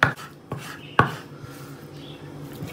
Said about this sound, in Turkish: Tavukları bunda çok ufak doğramanız lazım.